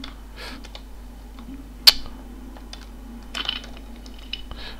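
Keys click on a computer keyboard in a quiet room, scattered taps spread unevenly, with one sharp louder clack and a short cluster of typing toward the end.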